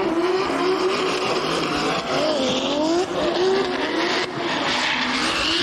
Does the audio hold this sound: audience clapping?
no